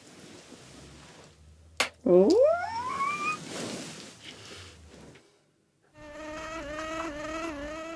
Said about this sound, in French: Le moustique, il est pas mort.